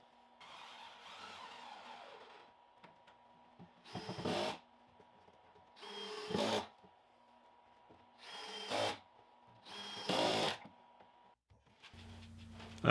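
Screws are driven with a power drill into a wooden toolbox face frame in short whirring bursts, five of them separated by pauses, close and clear with no talking.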